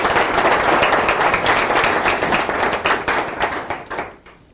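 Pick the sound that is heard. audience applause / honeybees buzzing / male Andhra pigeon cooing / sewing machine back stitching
audience applause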